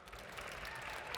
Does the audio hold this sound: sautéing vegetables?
no